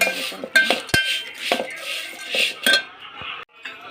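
A spoon stirring masala papad chaat with tomato, curd and sauce in a dish, giving close, irregular clinks and scrapes against the bowl in quick succession, alone without talk.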